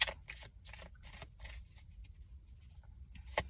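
Tarot cards shuffle softly in the hands as a quick series of faint riffling bursts, close but quiet, ending with one sharper snap.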